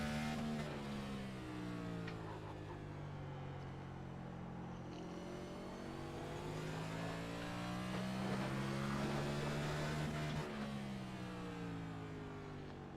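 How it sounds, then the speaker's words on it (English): A race car engine in a racing video game set at Martinsville, droning steadily near and loud with harmonic pitch that rises and dips as it bounces off the rev limiter before braking. "See, hitting that rev limiter right there sets up for the braking zone."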